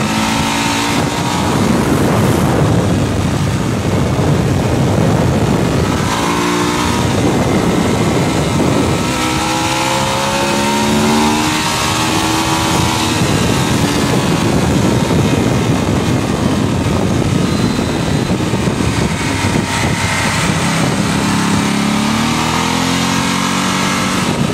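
Bimota motorcycle lapping a wet track on standard Continental tires, a loud continuous engine roar rising and falling with revs and shifts, heard close throughout.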